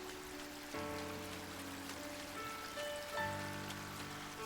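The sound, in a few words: rain falling in Story of Seasons: Grand Bazaar video game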